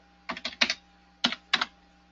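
A computer keyboard being used to enter a time into a schedule template field: a quick cluster of three crisp keystrokes, then two more after a pause, close and clear with no talking.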